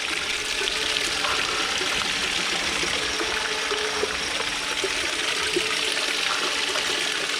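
Water pours and splashes steadily into a bucket, washing it out at a gold-prospecting cleanup sluice, with a continuous rushing sound and no pauses.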